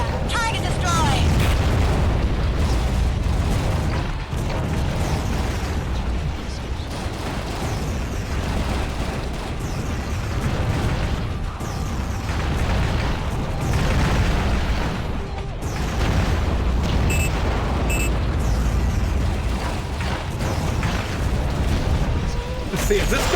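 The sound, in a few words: explosion of destroyed target in AquaNox video game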